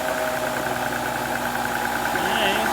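A 2005 Ford Freestyle engine idling with a misfire: a steady, close mechanical drone with a faintly uneven, knocking pulse and vibration running throughout.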